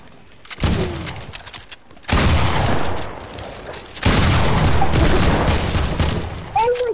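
Video game shotgun fire in bursts: a loud booming blast, then two longer stretches of dense, rapid gunfire, with a brief quiet gap between the volleys.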